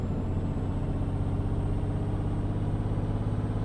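Truck engine in Euro Truck Simulator 2, climbing hills with a trailer, holds a steady low droning rumble with a faint high whine throughout, loud and continuous with no talk.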